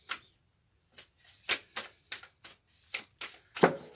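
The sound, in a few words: tarot cards being shuffled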